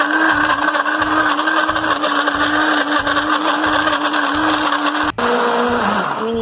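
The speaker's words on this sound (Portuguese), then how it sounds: "Vamos ligar o nosso liquidificador." A blender whirs loudly and steadily while blending coconut with water for coconut milk, then the motor pitch drops sharply near the end as it slows down.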